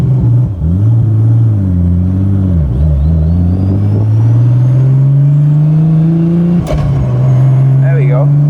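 A Nissan GTR engine revs and pulls through the gears while driving, loud and close, its steady drone rising in pitch with brief dips at the shifts.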